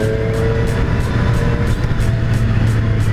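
A 2018 Triumph Street Triple RS 765 motorcycle engine runs steadily close by with the throttle held open, a continuous drone with regular pulsing bursts suggesting gear changes.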